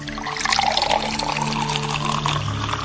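Water poured steadily from a vessel, a close splashing and trickling stream that fills the moment without any talk.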